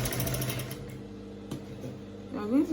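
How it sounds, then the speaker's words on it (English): A sewing machine stitches a shirt in a quick, steady mechanical whir, close by, with a short squeak and a clunk near the end. "I'm going to sew it."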